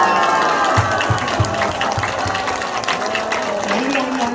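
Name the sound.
church congregation applauding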